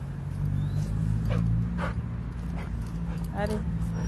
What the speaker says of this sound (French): Un petit chien.